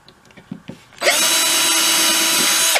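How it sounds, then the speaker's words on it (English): A few faint knocks and handling sounds, then a power drill spins up and runs loud and steady for nearly two seconds drilling holes into cigar box corners before stopping. "drill those holes in"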